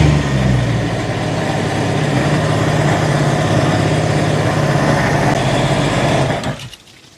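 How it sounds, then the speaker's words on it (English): A jet ski engine runs on a flushing hose during a superyacht jet ski centre inspection, droning loud and steady at close range, then cutting out near the end. "Well, we've connected the hose up, so we'll run the engine."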